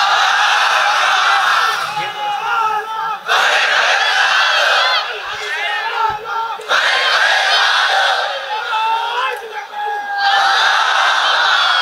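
A crowd at an Islamic sermon gathering loudly shouts the takbir in repeated waves, with massed voices rising and falling in rhythmic bursts.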